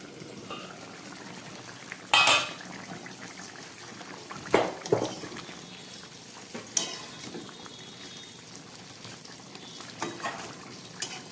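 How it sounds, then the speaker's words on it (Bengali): A covered pot of fish curry bubbles away with a low, steady simmer on low heat, broken by a few sharp clanks of a lid or utensil. "ঝোলটা ফুটছে, আমি একটা ঢাকা দিয়ে দিলাম।"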